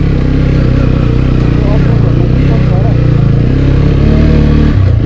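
Motorcycle climbing a rough, rocky mountain road, its engine droning loud and close throughout with a steady low rumble and shifting revs, while a rider talks over it.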